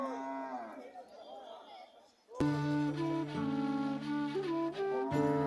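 Cattle lowing at the biggest cattle market in Kalkini, Madaripur, Bangladesh: a few soft moos over crowd murmur, then a loud, close, sustained bellow with a rich harmonic tone that holds for about three seconds.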